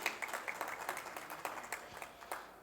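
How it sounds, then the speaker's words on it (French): Faint, scattered applause from a conference panel audience, with distinct individual claps rising and falling unevenly in a quiet hall. "Vos applaudissements, merci."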